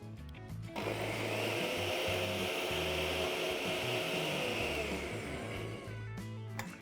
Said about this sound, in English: The next step is to grind all of this together into a coarse powder.